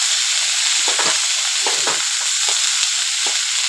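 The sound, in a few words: frying dandakalas greens in a pan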